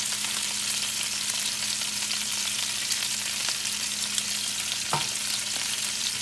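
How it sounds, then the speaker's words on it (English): Steak cooking in a pan in a steakhouse-style preparation, giving a steady hissing sizzle at moderate distance with a faint clink near the end, no voices. "So we'll let that simmer again."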